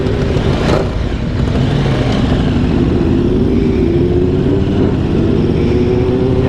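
An Aprilia RSV4 sport motorcycle engine revs hard and pulls away with a loud, continuous snarling drone that climbs slightly in pitch, close by and steady throughout.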